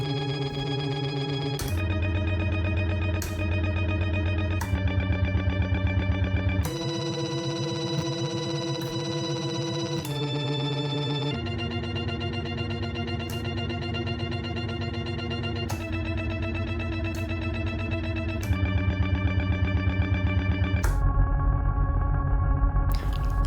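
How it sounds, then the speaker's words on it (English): A looper pedal on a Zoia modular effects unit plays back its loop through repitching modules with the dry signal switched off, giving dense, sustained pitched tones that shift in register every couple of seconds, loud and steady with chorus-like shimmer. "turn the dry signal off and turn the repitching modules back on, now you'll hear that the length of the loop stays the same"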